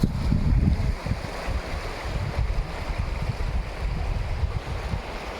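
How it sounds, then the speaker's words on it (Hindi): Waves on the flooded Bagmati River in Bihar churn and surge as the banks erode. The rushing water sounds loud and near, with heavy wind buffeting throughout and no talking. "ठीक उसी प्रकार से ये लहरें जो है उठ रही हैं।"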